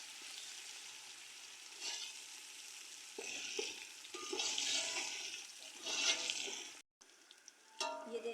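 Garlic, ginger and green chili paste frying in a pan while cooking chana pulao: a steady close sizzle with occasional stirring scrapes, rising and falling in intensity, no voices.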